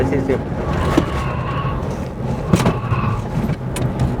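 Car cruising at about 140 km/h on new Runstop brake discs, a steady broadband road and wind roar throughout, with someone talking over it.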